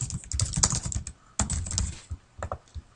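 Rapid clicks of a computer keyboard come in quick close bursts, then slow to a few scattered keystrokes with short pauses between them.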